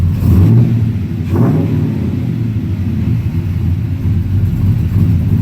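LS V8 swapped into a Dodge with a five-speed manual, idling with a steady, loud low rumble close by and a brief rise early on, like a light throttle blip, then settling back to an even idle.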